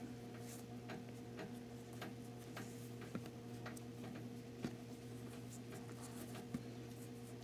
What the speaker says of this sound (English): if you're wondering what that noise is, that's my fan, my ceiling fan.